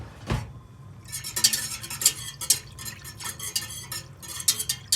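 A whisk clatters rhythmically in a pot, mixing sugar into pickling liquid for pickled eggs, with rapid metallic scrapes and taps close by after a single dull knock at the start.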